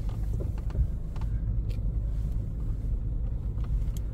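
A car grinds off-road up a rough mountain track toward a hilltop sheepfold, its engine a steady low rumble close by with occasional knocks and bumps from the uneven ground.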